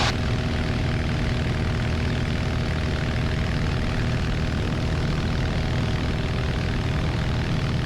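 A small airplane's propeller engine roars at full power during takeoff, a steady, loud, droning hum that fills the whole stretch without pause, heard from inside the cabin.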